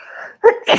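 A single sharp human sneeze up close: a short breathy intake, then an abrupt loud burst with a hissing tail, all within a second.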